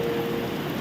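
Steady rain falls in the hills, a continuous broadband hiss of drops with no voices and no distinct individual impacts, holding at an even level throughout.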